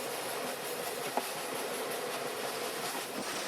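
A coal-fired steam locomotive train runs in a snowy setting, heard as a faint, steady rushing roar with rail noise and a single brief knock, no talking.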